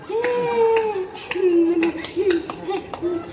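Sharp hand claps ring out at a steady rhythm, about eight in a row, each a crisp broadband snap, with a child's sing-song voice running underneath between them.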